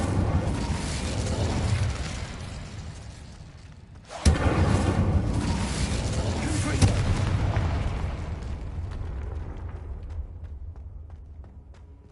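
Incendio fire spell cast in a wizarding video game, a sudden booming burst that cuts through a low rumbling background and then swells into a roaring, crackling blaze that slowly fades, with a voice speaking over it.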